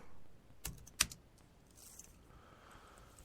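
Typing on a computer keyboard: a few sharp, close key clicks, one louder tap standing out, then quieter scattered keystrokes in a fairly quiet room.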